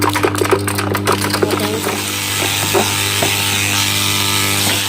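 A garden shredder grinds a stick thicker than a finger into fine chips, a loud steady motor drone with a rough grinding texture throughout and brief voices over the start.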